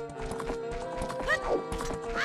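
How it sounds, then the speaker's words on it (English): Horse hooves clip-clop at a steady trot in The Legend of Zelda: Ocarina of Time, with a brief whinny partway through, set against game music. "Get back here, horse."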